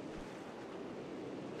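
A waterfall rushing in the video game Ark Genesis Part 2, a quiet, steady, even wash of roaring water that never lets up, with no voices over it.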